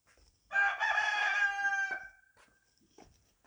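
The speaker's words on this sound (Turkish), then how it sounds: "Horoz beni buldu." A rooster crows once, loud and close, a long strained call, followed by quieter rustling and faint clucks.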